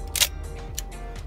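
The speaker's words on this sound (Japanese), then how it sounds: "いかにもメカニカルシャッターって音ですのがね" A Konica FP film SLR fires its mechanical shutter, with a loud, sharp release snap followed by a couple of fainter mechanical clicks and clunks, close up and with no talking.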